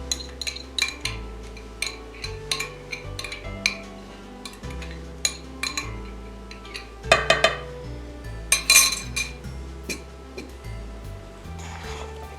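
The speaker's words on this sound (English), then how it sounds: "I've just got a spatula here to mix this up." Spatula scraping and knocking against a mixing bowl while sugar cookie dough is stirred together, giving irregular clinks and clacks with a few louder scrapes, close and fairly loud, with no voices.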